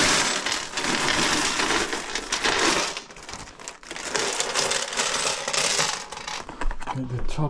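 A pile of mixed world and silver coins is tipped out for sorting, giving a loud continuous metallic clatter and jingle that pauses briefly, then rattles on again close by.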